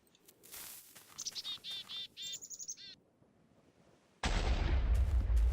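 In a modded Minecraft world, game birds chirp in quick bursts, then a sudden loud explosion roars in and holds as a dense, rumbling blast to the end.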